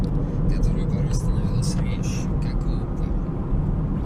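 A 2017 Toyota RAV4 drives a March road between Khabarovsk and Yakutsk, its steady low tyre and engine rumble heard from inside the cabin, with voices over the drone.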